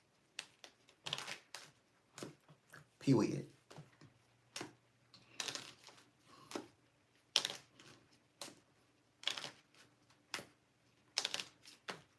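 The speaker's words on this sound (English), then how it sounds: "I'm just shuffling my cards." Playing cards being shuffled in a series of quick, crisp riffling bursts that repeat every second or so, fairly close, with a person talking briefly in between.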